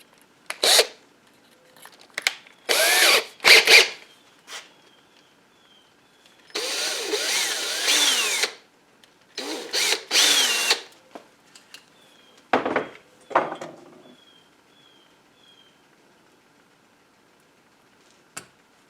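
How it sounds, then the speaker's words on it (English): A power drill with a 21 bit bores in several separate bursts during a rebuild of a 1974 Suzuki TC 125 motorcycle, each whine broken by pauses and small handling clatter. "So I'm stepping up to the 21 bit."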